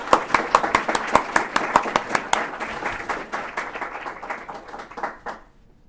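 Lecture audience breaking into applause for an incoming speaker, a steady burst of many hands clapping that thins and fades out over several seconds.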